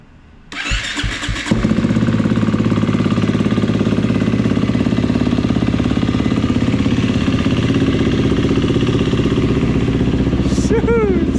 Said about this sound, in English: All right, give it a little cold start.